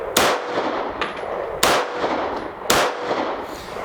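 Three quick, loud pistol shots from a Staccato P 2011 fired at a silhouette target, each a sharp crack with a short ringing tail, evenly spaced about a second apart with nothing else heard.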